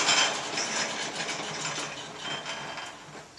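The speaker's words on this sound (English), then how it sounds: "I'm going to shut my machine off." A pipe thread-cutting machine is switched off and winds down, its whirring mechanical rattle loud at first, then fading gradually over a few seconds with no talking.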